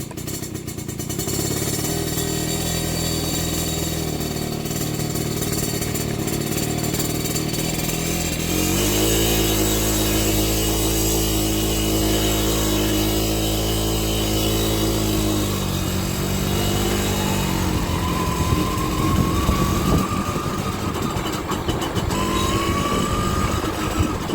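TVS XL Super two-stroke moped engine running steadily and close, its loud buzzing drone rising in pitch partway through as it revs, then settling back to a steady idle.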